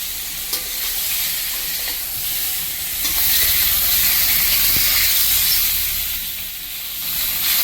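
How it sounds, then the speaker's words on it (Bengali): Singi fish frying lightly in a pan gives a loud, steady hiss and sizzle that swells midway and then eases slightly, heard close up with no talking. "শিং মাছ বেশি ভাজলে ভালো লাগে না, হালকা ভাজবো।"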